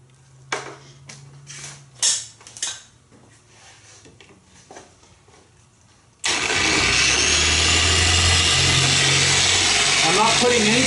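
A car polishing machine fitted with a lamb's wool wash mitt switches on at speed 1 on wet paint, giving a sudden steady whirring drone after several seconds of quiet handling clatter and talk, then running loud and constant to the end.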